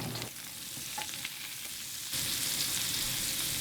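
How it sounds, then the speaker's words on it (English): Cruciferous vegetables frying in oil in a pan, a steady close hiss and crackle that grows louder and brighter partway through as the pieces are turned. "Turn and fry further on the other side."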